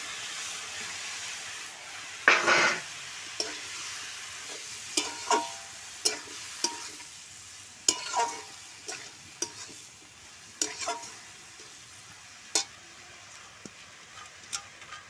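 Vegetables for a spinach curry stirred and fried in a pan: a soft steady sizzle with a dozen or so sharp spatula scrapes and clacks at irregular intervals, close by, with no talking.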